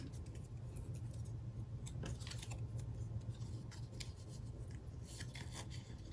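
Scissors snipping paper for a handmade card, a few faint, quick cuts and rustles close by, quiet and without talk.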